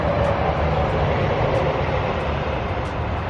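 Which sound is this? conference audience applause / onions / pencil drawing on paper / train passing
train passing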